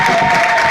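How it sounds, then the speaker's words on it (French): Church congregation clapping for an apostle at a Gedeons gathering in Cameroon, a loud dense wash of applause and crowd noise, steady and close throughout. "I want us to clap."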